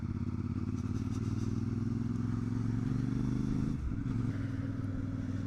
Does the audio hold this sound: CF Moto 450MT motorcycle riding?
yes